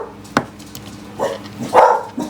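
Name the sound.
dog barking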